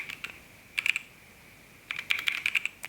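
Keystrokes on a computer keyboard come in two short bursts of quick, crisp clicks close by, separated by a pause, with no talking.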